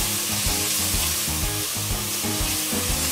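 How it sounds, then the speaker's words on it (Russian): Onion frying in oil in a pan, a steady loud sizzle with crackling throughout, alone without talk; garlic may be in the pan too. "Добавляем маслица и обжариваем. Сначала лучок."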